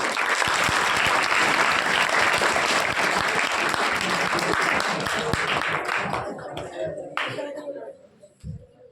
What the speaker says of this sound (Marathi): त्यांच्यासाठी एकदा सर्वांचे तर्फे टाळ्या